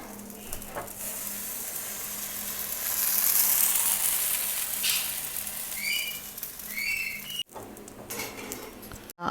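Appam batter (Kerala vellayappam) poured into a hot pan breaks into a loud, steady sizzle that swells and then eases, with light metallic clinks and a brief pause near the end.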